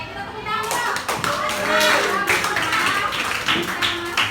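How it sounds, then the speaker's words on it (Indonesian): Students clapping their hands in a classroom lesson, a dense burst of overlapping claps with children's voices and chatter mixed throughout. "kita tepuk tangan dulu"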